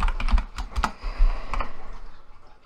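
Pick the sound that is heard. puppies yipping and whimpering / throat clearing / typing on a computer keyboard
typing on a computer keyboard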